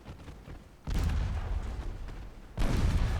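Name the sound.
5-inch naval guns firing in a video game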